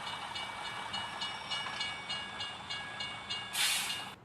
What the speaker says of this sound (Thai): ตอนนี้รถไฟก็กำลังจะมานะครับ